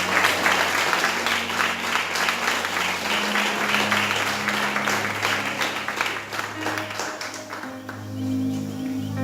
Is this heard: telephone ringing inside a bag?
no